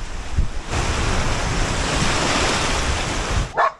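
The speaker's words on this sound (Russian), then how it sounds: "Ну да, шторм, конечно, серьезный. Из-за большого ветра." Rough Black Sea surf crashes continuously under strong gusting storm wind that buffets the microphone, ending with a brief muffled knock, on the coast near Kalahliia, Ukraine.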